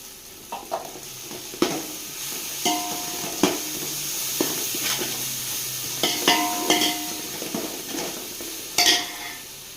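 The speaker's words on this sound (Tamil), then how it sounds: "வெங்காயம் வதங்கினா இஞ்சி பூண்டு பேஸ்ட்டு நல்லா நிறையா போட்டுக்கணும்" Onions sizzle in hot oil as ginger garlic paste is stirred in for a seeraga samba rice mutton biryani, with steady frying hiss and repeated sharp scrapes and clinks of a spoon against the pan, close up and without talk.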